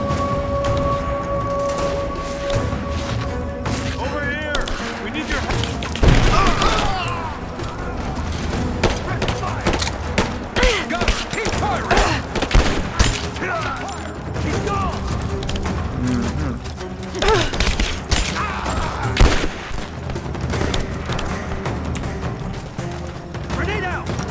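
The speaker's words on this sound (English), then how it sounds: "There's some explosions for you" Explosions blasting metal barriers in the video game Rise of the Tomb Raider, several sharp bursts and crashes scattered among gunfire-like cracks and game noise, with someone talking over much of it.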